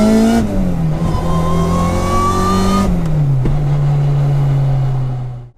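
A modified, supercharged Honda RSX Type S A-Spec, driven gently, hums along loud and close, its pitch climbing in two smooth sweeps with a gear change between them, then dropping off sharply at the end.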